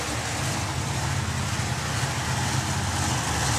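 The Al Capone altered drag car at a hot rod drag racing event, a continuous loud engine roar with dense rumbling low end and broadband noise, held steady throughout.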